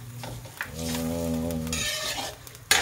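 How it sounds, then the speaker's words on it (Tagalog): Bicol Express stirred in a pan: a spoon scrapes steadily through the sauce over a soft sizzle, with a low tonal hum running through the middle, then a sharp clack at the end. "ayan haluin muna natin"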